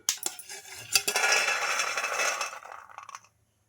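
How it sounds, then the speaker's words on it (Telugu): Fried peanuts are scraped and tipped out of a kadai onto a plate, giving a close, busy run of metallic scraping, clinking and rattling that lasts about three seconds before stopping. "ఈ పల్లీలను ఒక ప్లేట్లోకి అయితే తీసుకుందాం"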